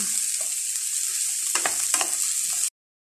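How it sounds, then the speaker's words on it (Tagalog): Eggplant sizzles and crackles in a hot pan while being stir-fried, a steady close frying hiss broken by a couple of scraping stirs before it cuts off. "Stir fry yung talong."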